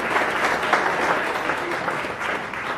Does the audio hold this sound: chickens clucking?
no